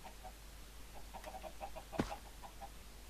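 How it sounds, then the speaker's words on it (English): Chicken clucking in the Minecraft Skywars video game: faint, repeated short clucks over a steady low game hum, with one sharper click near the middle. "Oh, now that's a chicken."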